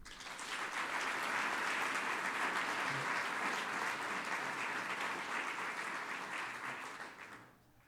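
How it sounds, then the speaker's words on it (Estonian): An audience at a Järveküla school graduation breaks into long, even applause, a thick wash of clapping that holds steady and fades off at the close. "Teeme neile kõigepealt ühe aplausi."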